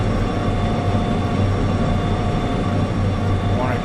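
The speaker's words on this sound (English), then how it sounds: "Go ahead and speed up now. We're on a flat section. Try to get our locomotive up to speed." A locomotive speeding up on a flat section of track in Derail Valley gives a loud, steady rumble and roar with continuous wheel and engine noise, unbroken throughout.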